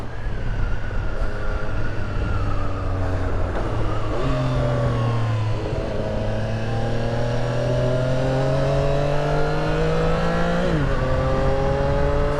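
A 2022 Triumph Street Triple RS motorcycle accelerates hard with a quick shifter, its engine note climbing steadily through the gears with brief dips at each upshift, loud and close throughout.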